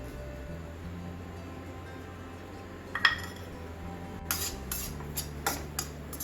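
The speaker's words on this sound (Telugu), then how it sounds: "మనం కొబ్బరి పొడి చేసి పెట్టుకున్నాం కదా ఇది కొంచెం ఒక ఫైవ్ మినిట్స్ వేయించుకోవాలండి" Coconut powder is stirred as it roasts in a pan, with a few scattered, fairly quiet utensil clinks and scrapes after a near-silent start and a faint background hum.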